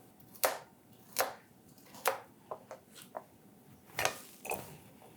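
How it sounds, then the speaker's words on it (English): A knife cuts peeled carrots into 2 to 3 inch pieces on a cutting board, giving about eight crisp, separate chops at an uneven rhythm, close up and fairly quiet. "And for the carrots, I'm going to just cut them in about 2 to 3 inch pieces."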